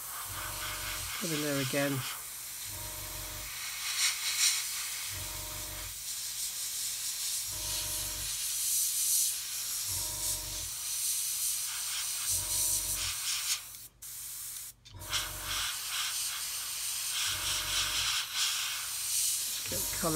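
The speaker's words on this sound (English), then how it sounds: "Just come along with the airbrush," An airbrush sprays paint in steady hissing bursts during a beginner's build of a big bad buff figure, the spray starting and stopping repeatedly at close range while someone talks between passes.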